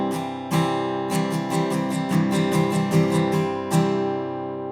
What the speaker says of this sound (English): C over G, quite possibly my favorite second inversion chord.